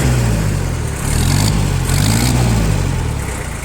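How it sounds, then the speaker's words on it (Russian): A 4x4 mini tractor engine runs loud and close, holding a steady throbbing drone with mild swells as the throttle is worked. No voices are heard over it. "Двигатель максимально ровненько, максимально четко реагирует на нажатие педали газа."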